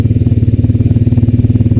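A Honda Rancher 420 ATV engine while riding on a trail, a loud, close, rapidly pulsing chug with a steady rhythmic throb and no voices.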